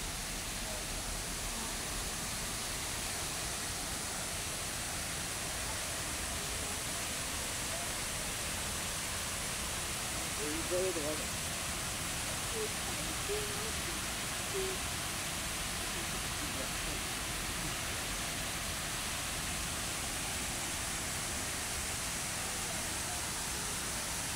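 A water fountain flows steadily in Yuen Long Town Park, Hong Kong, a constant broadband rush running as a dense wash throughout, with faint voices briefly beneath it.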